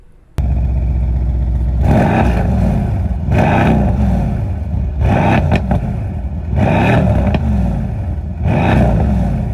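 A loud Mercedes-Benz AMG C63 S exhaust with its valve open revs repeatedly, about five throaty surges rising and falling over a steady deep rumble, close up.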